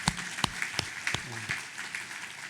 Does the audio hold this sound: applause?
yes